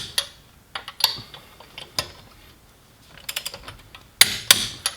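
A torque wrench ratchets while tightening a battery terminal on a Dodge Viper, giving sharp, close metallic clicks in uneven short bursts with quiet gaps between them and a quicker cluster near the end.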